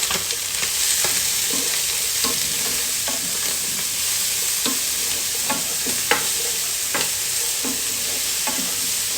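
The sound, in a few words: stirring green chillies and onions frying in a pan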